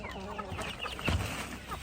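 Chickens cluck steadily on a farm where chicken feed is being mixed, a busy close flock with one slightly louder burst near the middle and no speech.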